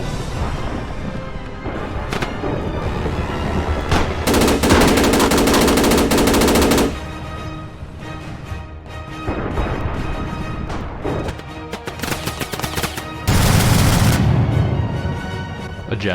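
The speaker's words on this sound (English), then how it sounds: "a Russian fighter tried to strafe the Finns" A fighter plane strafes troops in a Minecraft World War 2 battle, with loud bursts of rapid machine-gun fire and heavy crashing gunshots in long sustained volleys, breaking off and then resuming.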